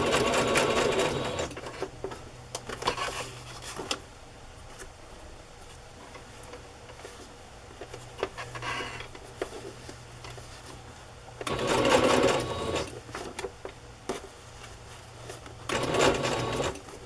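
A sewing machine stitches chiffon ruffles in short bursts of rapid mechanical whirring, with loud runs at the start and near the end separated by quieter pauses and light handling noise.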